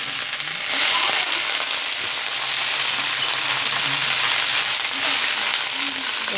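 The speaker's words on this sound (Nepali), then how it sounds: "यसमा अब मैले साग हालिदिन्छु।" Mustard greens hit hot oil and burst into a loud, dense sizzle that keeps up as steady frying, with a faint voice underneath.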